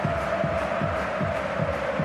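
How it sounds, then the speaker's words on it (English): A football stadium crowd urges on Barcelona with a loud, sustained roar, marked by rhythmic pulses of chanting voices repeating about every half second. "Well, this crowd urging on the Blaugrana now."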